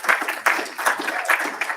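Audience applause at the BlinkOn 17 conference: a roomful of hands clapping in loose, pulsing surges that swell and ease several times over a couple of seconds, with no speech over it.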